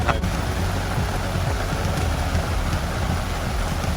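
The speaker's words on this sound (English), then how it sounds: "Just making dinner in the rain here, no big deal." Heavy rain pours down on a wilderness backpacking campsite during dinner, a loud constant hiss of drops hitting the ground and gear, with a sharp knock near the start.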